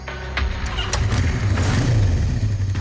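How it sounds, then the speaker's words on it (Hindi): A motorcycle engine fires up and revs, then rides off with a rising, steady mid-range drone that stays fairly close throughout the short burst. "ये कौन जा रहा बाइक पे?"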